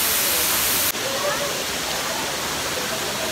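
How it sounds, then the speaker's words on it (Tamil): Aintharuvi, the Five Falls at Courtallam, where water drops in five places, gives a steady, loud, broadband roar of falling water that fills the whole clip without a break. "மொத்தம் வந்து இந்த இடத்துல 5 இடத்துல தண்ணி விழுகிறதுனால ஐந்தருவின்ட்டு இதுக்கு பேர் இருக்குது."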